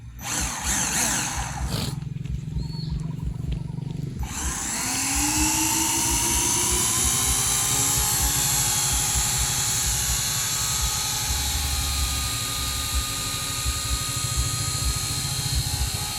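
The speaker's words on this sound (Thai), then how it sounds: "เปิดแล้วโยกคันเร่งข้างซ้ายขึ้นแล้วเอาลงหนึ่งครั้ง นะครับ ก็จะพร้อมบิน" SYMA X8C RC quadcopter drone motors spin up and lift off: a few short whirs, then a loud, steady high-pitched buzz that rises in pitch as it holds, close by.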